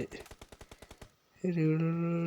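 Rapid M4 rifle fire in a mobile shooter game, about ten sharp evenly spaced shots in a quick burst, loud and close, followed by a sustained tonal game sound.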